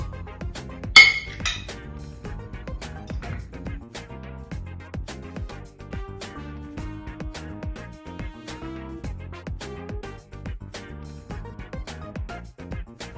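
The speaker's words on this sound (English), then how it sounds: "I'm gonna get started by adding these fruits to the blender" Hard chunks of frozen melon and other fruit clunk and clatter into a plastic blender jar, a burst of sharp clinks at first, then scattered knocks and rattles continuing.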